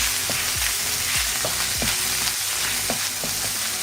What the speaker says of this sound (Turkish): Kabaklarımız kızarmaya başlamış.